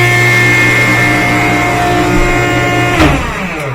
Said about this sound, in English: the motor turns on